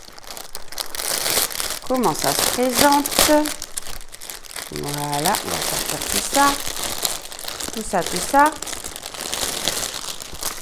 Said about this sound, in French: Désolée pour le bruit du sachet.